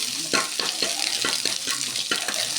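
Dried red chillies frying in oil, a soft crackling sizzle broken by a rhythmic series of scraping stirs in the pan, fairly quiet and close.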